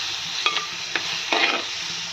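Salted onions frying in a pan while a spoon stirs them, a steady bright sizzle broken by three short scraping stirs, close and moderately loud.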